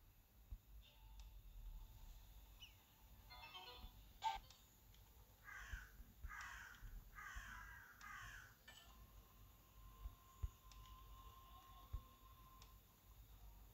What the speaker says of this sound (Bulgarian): тук при нас в Германия още гарги има